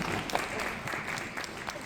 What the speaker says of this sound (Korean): 여러분들의 큰 축복의 박수를 부탁드립니다